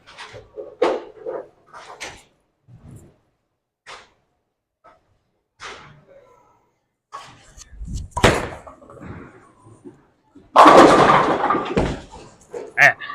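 A Storm Summit Peak bowling ball crashes into the pins late on, a loud, scattering clatter after scattered thuds and quiet gaps, with someone talking intermittently.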